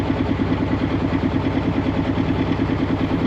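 A sailboat's engine idles just after being put into gear, a steady low, rhythmic chugging that pulses evenly and stays close and moderately loud without any voices.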